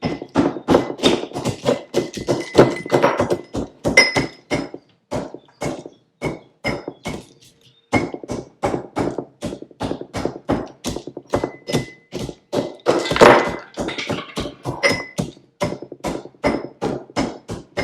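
Steady pounding blows crushing acorn caps, sharp repeated hard knocks at a brisk irregular rhythm, close by, with a short pause midway before the crushing resumes.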